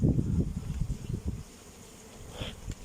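Honeybees crowding the entrance of a hive, a close, steady buzzing drone with louder low-pitched swells in the first half, easing to a softer hum with a brief higher whine near the end, no speech.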